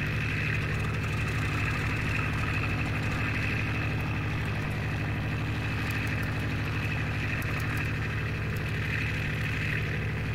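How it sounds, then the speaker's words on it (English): A failing aircraft engine in the FlightGear flight simulator gives a steady, loud, continuous drone with a low hum, unchanging throughout and with no voices. "What's wrong with the engine?"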